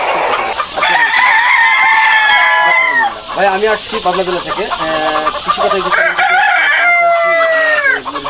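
On a poultry farm, chickens cluck and squawk loudly and close by, with drawn-out rooster-like calls standing out among them, while someone speaks over the flock.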